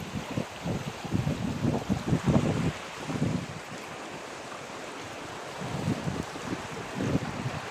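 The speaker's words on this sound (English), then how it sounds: "You know, waves coming in," Sea waves wash in against a rocky, mountainous coastline, a steady roar of surf under gusty wind buffeting the microphone, with heavier rumbling surges near the start and end.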